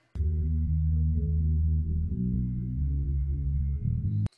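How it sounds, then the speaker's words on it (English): A bass line separated from a music mix by a conditioned U-Net, sounding as a fairly quiet low, steady run of sustained notes lasting about four seconds before cutting off. "The conditioned unit bass estimate sounds like this."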